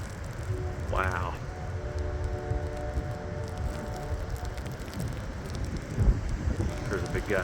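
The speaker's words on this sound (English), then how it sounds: "There's a big gust." Strong wind gusts roar through a lake-effect snowstorm in near-blizzard conditions, a steady broadband rush with a sharper burst near the end, while voices talk over it.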